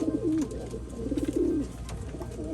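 A racing pigeon coos close by in two rolling, throaty bursts, each a run of soft pulsing notes, with quieter background noise in the pauses and no talking.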